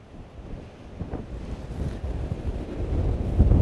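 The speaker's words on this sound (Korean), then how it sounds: "강풍이다, 강풍." Strong gale over a rough winter sea off a rocky shore, heavy buffeting wind roar and microphone rumble mixed with crashing surf, building louder toward the end.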